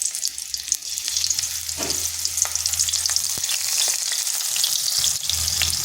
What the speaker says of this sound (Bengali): এইভাবে টমেটো আর কাঁচা লঙ্কা দিয়ে দিয়েছি।